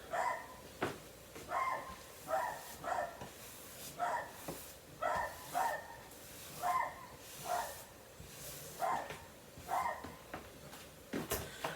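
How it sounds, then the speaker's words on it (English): A beagle barks repeatedly in short bursts, about a dozen sharp barks spaced a second or so apart, moderately loud and fairly close, with no talking over them. "That's a beagle for you. They are cute, but they are loud."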